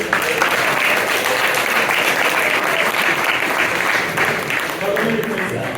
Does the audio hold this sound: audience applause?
yes